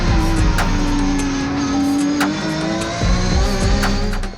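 Race car engine lapping a circuit during a qualifying session at a modest motorsport team's race weekend, a loud sustained engine drone with shifting pitch, a brief lift near the middle, then pulling hard again, with a faint tire squeal.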